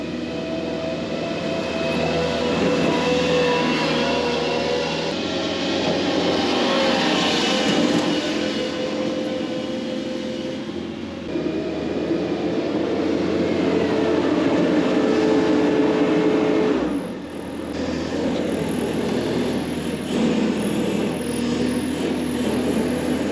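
Bobcat Toolcat 5600 utility vehicle fitted with truck tires driving along, a steady engine drone with rumbling tire and road noise that swells and dips briefly midway, no talking.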